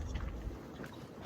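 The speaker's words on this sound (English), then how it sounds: "It's windy." Low, rushing gusts of wind buffet the microphone at a windsurfing event, a faint rumbling roar with no voices.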